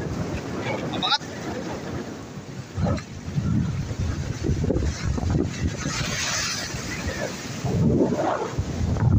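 Strong wind gusts roar by the seaside in rough weather with whitecapped water near a boat, buffeting loudly and unevenly with bursts of wind noise on the microphone while someone talks over it.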